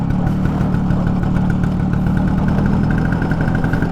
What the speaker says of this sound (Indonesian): jadi ini saya lagi riding tipis-tipis dalam komplek, sekalian nyobain Vespa baru beli